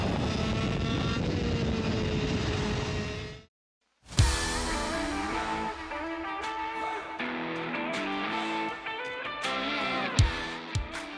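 A KZ racing kart engine howls through a lap of MotorLand Aragón in Spain, loud and close, cutting out briefly and then returning with rising and falling revs and gear changes.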